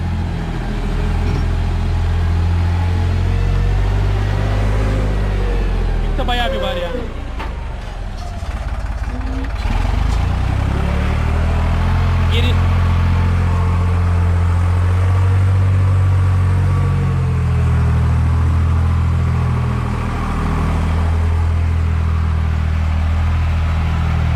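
Deutz-Fahr F 55 and Hattat B 3065 tractors comparing loads, one hauling and unloading a 5-ton load of soil, with a steady diesel engine drone near the microphone, a brief clattering burst partway through and engine tone shifting later.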